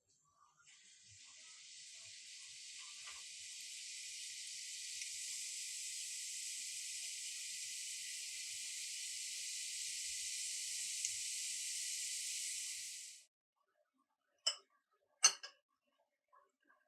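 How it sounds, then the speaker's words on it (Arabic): Chebakia sesame pastry lowered into hot oil, a steady bright sizzling hiss that swells and holds for about twelve seconds, then stops abruptly, followed by a few faint clicks and taps. "غندوز دابا نبدا نقلي في شباكيه شنيخه"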